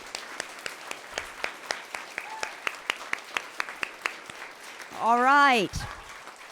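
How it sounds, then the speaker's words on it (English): Scattered, sparse hand claps from a small audience at a student poetry slam, individual claps spaced out rather than a full ovation, with a brief spoken voice near the end. "let's clap really loud for all of the student poets"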